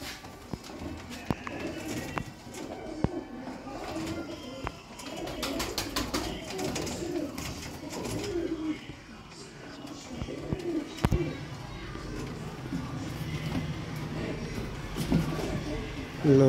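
Pigeons of several kinds such as kukar, shekhan and black-faced birds, offered for sale, cooing softly and steadily amid a busy bird-market din, with scattered clicks and knocks and people talking nearby.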